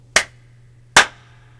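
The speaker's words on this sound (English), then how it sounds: "I just use two claps" Two sharp hand claps spaced just under a second apart, crisp and close, used as a sync marker before a video recording, with a steady low hum beneath and no talking.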